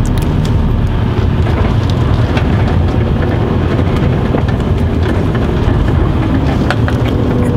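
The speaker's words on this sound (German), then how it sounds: "Endlich regnet's mal." Steady rain falls outdoors in a continuous dense wash, loud and close, with a broad rumble underneath that suggests passing traffic.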